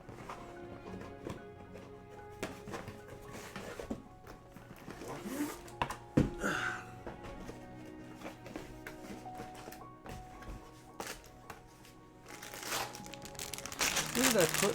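Plastic bags of Lego pieces are pulled out and handled, giving repeated close, quiet crinkling and rustling bursts along with light taps, while a person talks.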